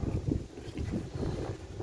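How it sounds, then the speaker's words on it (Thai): Strong wind blows outdoors before dawn, roaring steadily into the microphone as loud, low buffeting gusts with no other sounds. "ลมแรงมากเลยครับ"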